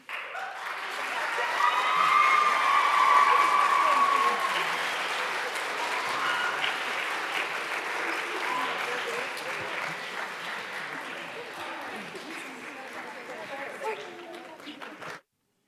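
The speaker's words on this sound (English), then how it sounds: "Don't you think everyone deserves another round of applause?" Audience applause after a school theater night performance, dense steady clapping that swells early then continues at a slightly lower level with some crowd noise until it stops abruptly.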